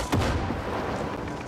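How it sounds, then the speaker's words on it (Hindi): Grenade going off close by in Far Cry 6, a single sharp blast right at the start that decays into a noisy rumble for about a second, with no talk. "बड़े करीब में ग्रेनेड फेंका है इन लोगों ने।"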